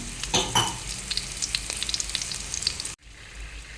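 Garlic and dried red chillies fry steadily in hot oil with a constant crackling sizzle and a few stirring scrapes near the start, then the sound cuts off abruptly toward the end.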